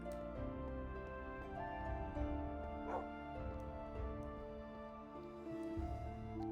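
Dogs bark, yip and whimper at Wolfkeep Castle, near an old tower and small chapel, in short bursts over a steady layered tonal background.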